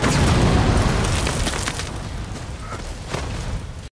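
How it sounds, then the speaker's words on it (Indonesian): A film explosion, in a scene with burning clothing, bursts in at full loudness as a heavy boom, then slowly fades into a rumbling, crackling tail before cutting off abruptly. "meledak."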